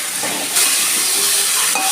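Loud, steady sizzling and hissing fills the whole stretch as water goes into a hot pan with coriander powder and turmeric for a thin rohu fish curry, close up and constant, with no voices.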